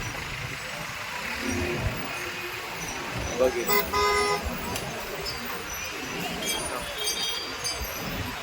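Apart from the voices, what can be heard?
road traffic with car horns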